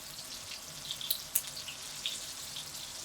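Batter-covered tomatoes fry in hot oil, giving a faint, steady sizzle with scattered soft pops and crackles, heard alone at low volume.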